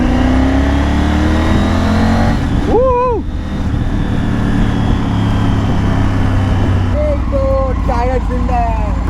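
Triumph Tiger 900 GT motorcycle engine running steadily while riding, a constant loud drone mixed with wind and road rush, with a few brief tonal squeals rising over it.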